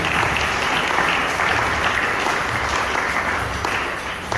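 A church congregation at a Sunday service applauds continuously, a dense, sustained clapping that fills the room evenly from start to finish.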